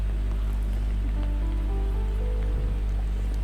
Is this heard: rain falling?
yes